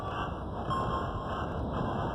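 A piston-powered train in a video game runs with a steady, dense rumbling chug that fills the whole stretch at an even level, with no break and no voices.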